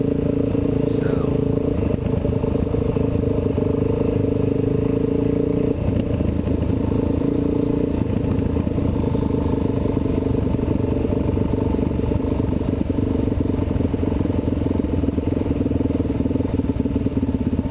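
A Kawasaki KLX dirt bike putters along in low gear on a trail ride, a steady close engine drone with faint clatter running throughout the clip.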